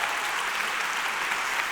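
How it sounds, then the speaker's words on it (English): Warm applause from a lecture audience, dense and even clapping that holds at a steady level from start to finish, with no talking over it. "I will ask everyone to give you one more warm applause"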